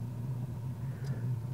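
A fishing boat's engine idles on a river, a low steady rumbling hum with a slight pulsing rhythm, moderately quiet and close, with no voices.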